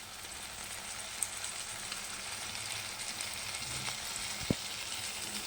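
Snail gravy being sautéed and stirred in a pan, village style, gives a steady low sizzle with faint scraping, quiet and continuous, with one brief knock near the end.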